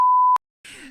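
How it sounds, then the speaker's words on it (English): A single steady censor beep, a clean electronic tone of about a third of a second, cuts off sharply and is followed by a brief muffled voice fragment. "I hope the beep didn't hurt you, hurt your ears too much on that one."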